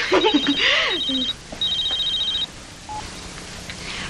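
A telephone rings in a domestic scene with electronic trilling bursts, two long rings separated by a short gap, while a voice sounds at the start.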